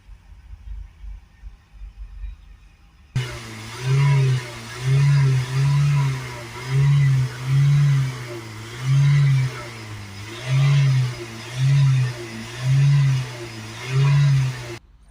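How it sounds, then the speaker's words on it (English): A Ford Tourneo Transit Custom taxi van's 2.0 EcoBlue diesel engine with an exhaust particulate filter fault idles, then is revved up and down in about ten evenly spaced, loud blips, each rising and falling back to idle. "Give it a few spike revs, up and down."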